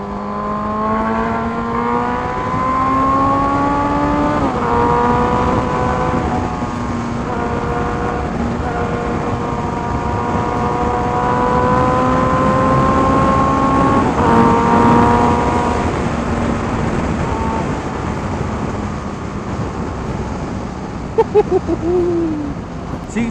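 2015 Suzuki Hayabusa revving hard in first gear, engine pitch climbing repeatedly in loud, close, sustained sweeps through about twenty seconds, with a few sharp clicks near the end.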